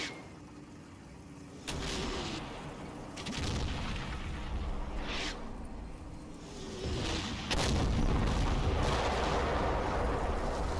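A 17-pounder anti-tank gun fires at an enemy tank in the Combat Mission wargame, with several heavy booming shots and rumbling impacts spread across the stretch, loud and close, with no talk.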